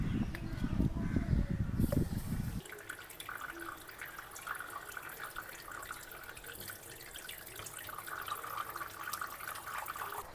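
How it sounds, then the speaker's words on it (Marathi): Water gushes loudly into a water lily pot and spills over for about two seconds, then cuts off abruptly, leaving only a faint trickle and low background hiss. "आठवड्यातून 2दा आपल्याला पाणी ओव्हरफ्लो करायचं आहे, म्हणजेच पूर्णपणे पाणी बदललं जातं"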